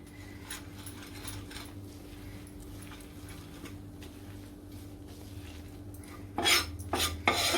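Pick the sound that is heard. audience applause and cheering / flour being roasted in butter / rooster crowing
flour being roasted in butter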